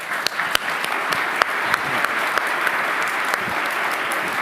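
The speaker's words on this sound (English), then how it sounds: "Let's give them one more round of applause" Audience applause for tech industry panel speakers at an AI chip conference, sustained clapping from a sizeable crowd with a few sharp nearby claps standing out, steady and fairly loud.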